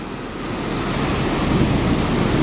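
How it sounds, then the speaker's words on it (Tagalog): A strong river current rushes beneath an old bridge, a loud, steady roar of flowing water that swells slightly toward the end, with wind buffeting the microphone and no voices. "Ang lakas po yung current ng tubig na umaagos."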